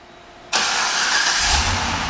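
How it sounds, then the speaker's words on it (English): A 2012 Cadillac CTS-V Coupe with a supercharged engine starts remotely: a sudden loud crank catches at once and settles into a strong, steady idle with deep low rumble, no voices. "And the car turns right on."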